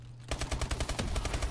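Rapid, evenly spaced shotgun blasts ring out in Call of Duty: Advanced Warfare, a loud close burst of about a dozen shots fired in quick succession, with no talk.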